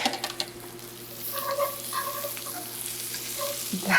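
Flour whisked into a hot pan and cooked down for a Salisbury steak gravy, with a soft, close sizzle and intermittent whisk scrapes and stirring, and no one talking.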